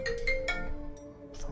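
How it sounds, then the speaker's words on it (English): A phone ringtone chimes in steady tonal pulses, a short burst repeating a few times at moderate volume over a low background hum during a Borderlands gaming session. "Phone's ringing."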